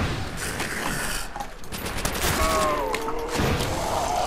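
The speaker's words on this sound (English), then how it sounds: "Trench gun." Rapid trench gun blasts ring out in a Call of Duty custom zombies map set in a park, dense and close amid game noise, with a couple of whistling tones running underneath.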